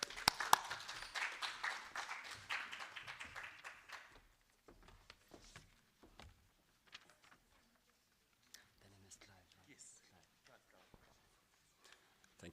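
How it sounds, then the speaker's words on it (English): A conference audience at a research indaba on gender-based violence in higher education applauds as a speaker takes the stage; dense clapping fills the first few seconds, then thins to scattered claps as a voice begins talking. "A round of applause,"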